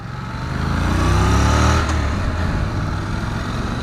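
A Honda NC750X motorcycle engine revs up to a loud, rough peak, then settles into a steady throbbing idle, close by.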